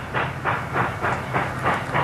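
A train passing over a railway crossing, played as a sound effect in a stage performance, a steady rumbling roll with a regular clickety-clack beat of wheels, loud and close with no talk.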